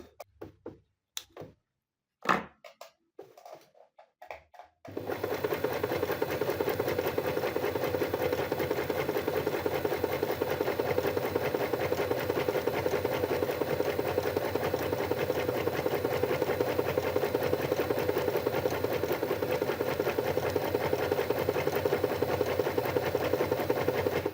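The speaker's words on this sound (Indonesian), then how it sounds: "Kita akan jahit bentuk melengkung ya, supaya terlihat apakah ada masalah atau tidak." A sewing machine stitching a curved seam runs as a steady, fast mechanical whir for about twenty seconds after a few brief clicks and handling noises, close and continuous with no talk.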